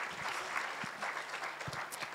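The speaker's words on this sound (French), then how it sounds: "applaudissements" Applause at a French live award ceremony, a steady wash of clapping from an indoor audience with a few louder hand claps standing out, fairly distant and continuous throughout.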